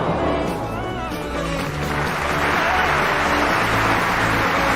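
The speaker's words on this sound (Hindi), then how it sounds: "ये देखकर सारे दर्शक उस खिलाड़ी के लिए तालियां बजाना शुरू कर देते हैं।" Spectators at a sports match applaud a player who helped his opponent, a crowd's clapping swelling into a dense, sustained roar of applause with voices mixed in.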